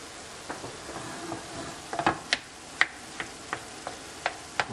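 Pork and shrimp fry in a pan while a wooden spoon stirs them: a steady soft sizzle runs throughout, broken by sharp, irregular clicks and taps of the spoon against the pan, close and fairly quiet.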